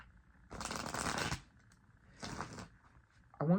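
Tarot cards being shuffled in two bursts, a longer riffle then a shorter one, close and fairly loud, with a brief higher sound at the end.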